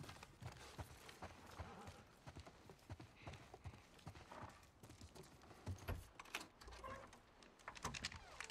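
Quiet, rapid horse hoofbeats in the video game The Last of Us clip-clop in a continuous running rhythm, faint and slightly distant, with scattered light clicks.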